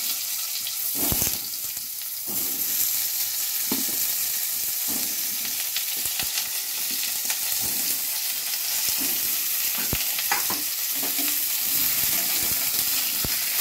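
Pieces of pointed gourd (potol) sizzling loudly in hot oil in a pan for a Lakshmi Puja offering dish, a continuous close frying hiss with stirring scrapes and small bursts throughout.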